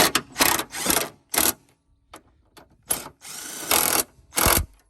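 An impact wrench fastening BC Racing coilover bolts, loud ratcheting bursts of about a second each, several in sequence with short pauses between, close up and with no talk.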